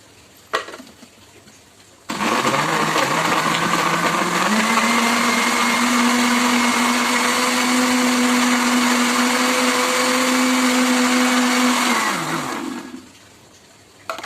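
An electric blender runs continuously for about ten seconds, blending pineapple rujak sauce with tamarind water and sugar, starting abruptly with a loud steady whir and winding down at the end.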